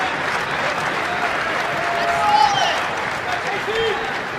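A crowd at a men's college wrestling dual meet between Oklahoma State and Northern Iowa cheers and applauds in a continuous loud roar. The noise swells briefly near the middle, and a commentator's voice is heard faintly within it.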